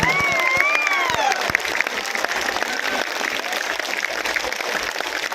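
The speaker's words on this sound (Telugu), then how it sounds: "గట్టిగా కొట్టాలయా చప్పట్లో" Dense, loud clapping from a big crowd at an open-air political rally during a YSRCP empowerment bus tour in Peddapuram, steady for several seconds, with whistles and voices shouting over the applause near the start.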